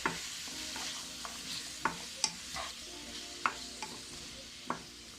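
Pumpkin and okra sauté in a pot for Jamaican steamed fish, a soft sizzling bed punctuated by about eight distinct spoon clinks and scrapes against the pot at irregular intervals.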